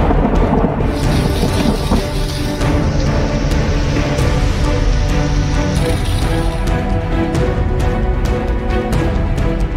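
Heavy monsoon downpour with rolling thunder during severe flooding in India, a loud, dense and steady roar of rain with deep rumbles and sharp cracks throughout, no voices.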